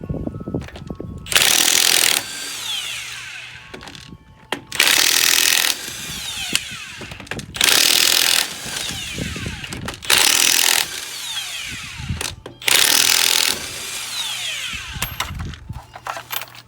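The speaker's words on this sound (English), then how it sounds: "one of the best things you can invest in is a good cordless impact" Cordless impact wrench on an RV trailer wheel fires in five short, loud bursts spaced a couple of seconds apart, with clanking and handling noises between them.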